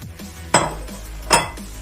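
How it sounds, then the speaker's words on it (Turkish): Metal utensil scrapes and clanks against a pan twice while chopped spinach sizzles softly underneath, close and fairly quiet. "Ispanağımızı da karıştırıyoruz."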